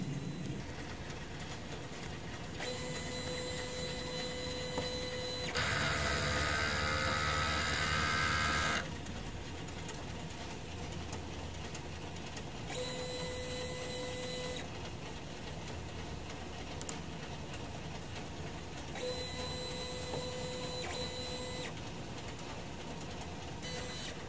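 A DTF printer runs a head cleaning cycle with a steady mechanical whir and hum that shifts between quieter and louder phases, including a loud hissing stretch, all fairly close and without talk.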